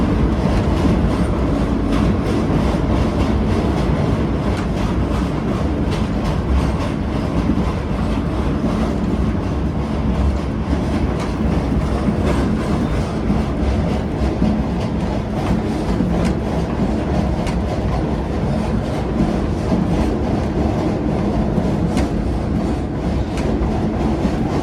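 The Shalimar Express rolls across the Empress Bridge over the Sutlej River, heard from inside an AC carriage as a loud, steady rumble with continuous clickety-clack of wheels on rails, no voices.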